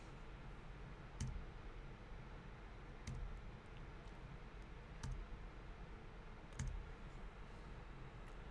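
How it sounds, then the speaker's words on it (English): Four faint, isolated computer keyboard key clicks, spaced a couple of seconds apart, over a quiet room background with no talking. "if I hit the backslash key on my keyboard"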